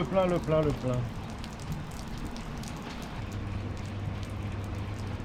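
Steady light rain patters on a surface, with a brief voice speaking at the start.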